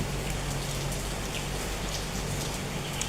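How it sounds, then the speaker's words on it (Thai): Heavy rain pours steadily on a surface, a dense continuous wash of drops at close range with no talk. "ฝนตกลิ้นจ้าตอนเนี้ย"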